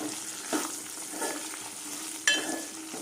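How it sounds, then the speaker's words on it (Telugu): Broad bean (chikkudu kaya) pieces fry in oil in a pan until golden, giving a steady soft sizzle with occasional stirring scrapes and a sharper clatter near the end, no voices. "ఇప్పుడు ఈ చిక్కుడుకాయలు మనకి గోల్డెన్ కలర్ వచ్చేంత వరకు వేయించుకుందాం"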